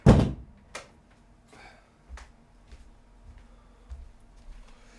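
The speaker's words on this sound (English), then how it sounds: "I'm just going to go close the door" A door pulled shut indoors: one sharp, fairly loud knock at the start, followed by a few faint thumps and light knocks in a quiet room.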